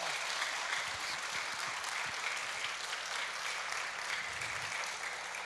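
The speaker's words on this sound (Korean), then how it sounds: "우리 올라오실 때 박수로 환영해 주시기 바랍니다" Church congregation clapping to welcome a visiting guest at a Sunday worship service, a steady, even wash of applause throughout, fairly distant and moderate in level.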